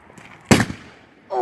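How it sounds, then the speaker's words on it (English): Christmas Eve fireworks in Georgia give one sharp, loud burst that fades quickly, followed a moment later by a rising hiss or whistle near the end. "Christmas Eve fireworks in Georgia."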